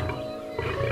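A lion roars in one short, loud, gravelly burst that swells at the end.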